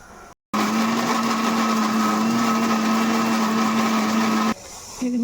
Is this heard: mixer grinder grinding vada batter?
yes